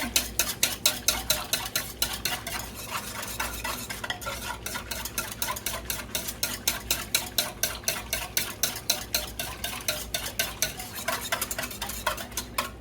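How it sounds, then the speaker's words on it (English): A small whisk beats bread ingredients in a bowl with a fast, regular clatter of wire on the bowl's side, close and steady, with no voices. "I'm going to get a small whisk out, and we're just going to whisk this together"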